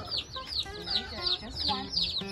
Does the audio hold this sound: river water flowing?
no